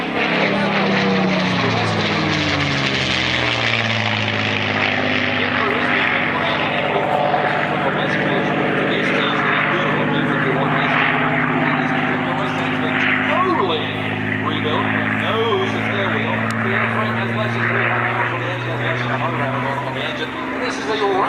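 Propeller airplane fitted with a Roush-built Rolls-Royce engine at an air show, its loud, steady engine drone running continuously close by with a shifting pitch, speech mixed in beneath.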